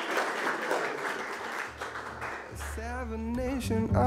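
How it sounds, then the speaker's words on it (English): Crowd applause at a medical awards ceremony fills the first couple of seconds, then music with a sung voice takes over. "a big applause for him"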